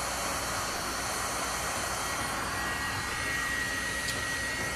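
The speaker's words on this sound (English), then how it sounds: "I'm going to show you what's going to happen if you hold the heat gun in one place for too long" A heat gun blows steadily against a wooden bread and charcuterie board, held in one spot long enough to scorch the wood; a continuous close, even hiss of rushing hot air runs the whole time without speech.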